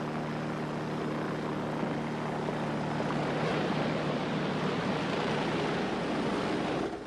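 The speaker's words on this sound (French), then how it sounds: "L'hélicoptère a été rappelé par Kramer." A steady, loud helicopter drone with a constant rotor hum holds throughout, unbroken and close, with no voices.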